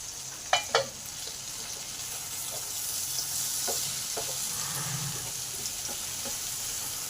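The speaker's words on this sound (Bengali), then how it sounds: "দেখেন আলু আর কুমড়ো ভালোভাবে আমার" Potato and pumpkin pieces fry in a covered pan with panch phoron, giving a steady low sizzle with a few clinks of a spatula near the start and later stirring scrapes.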